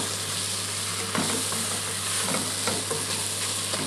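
Onions sizzle and fry steadily in a pan as brown sugar coats and caramelizes them, a continuous close hiss broken by a few soft stirring scrapes, with no voices.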